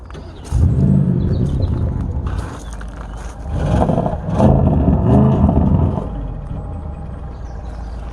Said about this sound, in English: Can't beat that sound of that V8 rumbling away.